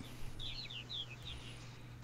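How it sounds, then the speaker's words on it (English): A flock of blackbirds circling a house gives a few faint, high chirps over a steady low indoor hum. "I got a swarm of blackbirds up there that keep circling the house."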